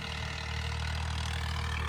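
A tractor engine runs at a steady low rumble while ploughing a field for sowing, an unbroken mid-level drone with no talk over it.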